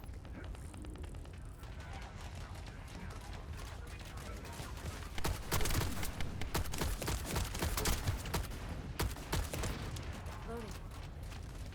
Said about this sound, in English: the burst fire mode essentially has no recoil, so you can just